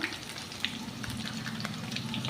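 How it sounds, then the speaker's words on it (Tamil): Steady sizzle of turmeric powder frying in oil, with soft crackling pops, close and continuous, no voices. "எண்ணெயிலே போடும்போது பார்த்திங்கன்னா பொடி வந்து எண்ணெயில் பொரியும் போது நல்லாயிருக்கும்"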